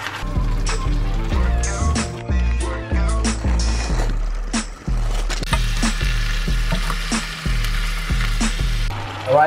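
Beef sizzles in a pan for a prawn, beef and chicken vegetable stir fry, a loud steady frying hiss broken by scraping and clanks of stirring.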